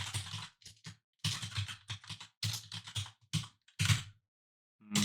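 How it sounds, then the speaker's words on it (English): A computer keyboard is used to type a command in short, crisp bursts of key presses separated by brief silences, close and fairly quiet. "we will type chmod plus x"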